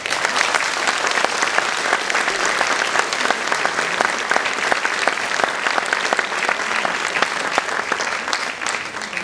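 A theatre audience gives sustained, even applause to welcome honored guests, a steady wash of many hands clapping with no talk over it.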